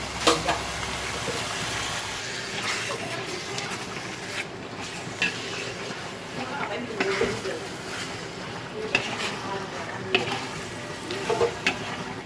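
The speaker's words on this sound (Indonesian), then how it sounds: "bawang merah, bawang putih, kita tumis" Shallots and garlic sautéing in a pan for rendang, a moderate sizzle with occasional stirring scrapes and clicks, while a person talks over it.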